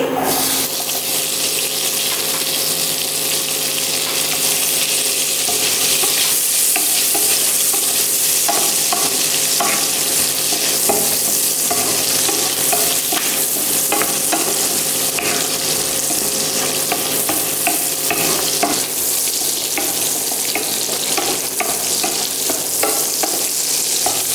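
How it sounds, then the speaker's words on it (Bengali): Cubed onions dropped into hot oil for a chicken roast, a loud, dense, continuous sizzle and crackle close by, with stirring scrapes running through it. "অয়েল মনে হচ্ছে গরম হয়ে গেছে, আর আমি পেঁয়াজগুলো দিয়ে দিচ্ছি"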